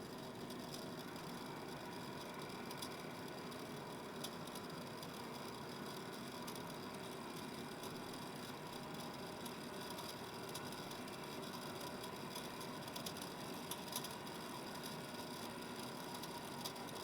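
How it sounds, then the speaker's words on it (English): An embroidery machine winds its bobbin with a faint, steady mechanical whir and hum, continuous and even throughout, with occasional tiny clicks. "press play to start winding the bobbin, and it'll go for it until it's all the way full."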